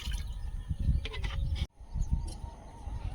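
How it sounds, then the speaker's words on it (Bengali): Water poured into a kadai (wok) over the fire in a village kitchen for heating, a close splashing, trickling pour with a brief break partway through, moderately loud, with no talking. "কড়াইতে জল দিয়ে দিচ্ছি একটু জল গরম করে নেব"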